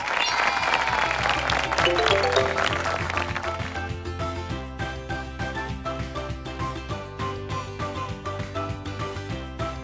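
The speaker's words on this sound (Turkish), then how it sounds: "Hepimize alkış." Short applause for a children's drawing lesson swells in the first few seconds, then fades as a bright, steady musical accompaniment takes over and continues alone.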